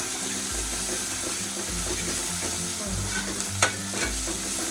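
Chopped onion and green chili sizzle in hot oil for a Kathiyawadi-style tempering of millet flatbread, a steady crackling fry with repeated low scraping stir strokes and a brief metallic clink, no voices.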